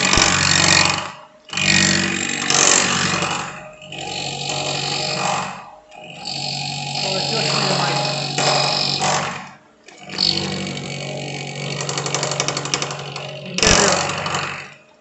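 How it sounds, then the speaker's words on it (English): Machining a light metal bracket at around 580 RPM, with a continuous buzzing, vibrating cutting noise in several long passes broken by short pauses, close and fairly loud. "As the material is very light, you can hear a bit of vibration in the metal as it's being cut."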